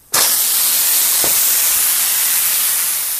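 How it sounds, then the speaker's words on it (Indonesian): Steam hisses loud and steady from the opened whistle valve of a pressure cooker after cooking chicken feet, a broad continuous rush starting abruptly and holding for several seconds with a brief click partway through. "baru kita buka peluitnya seperti ini"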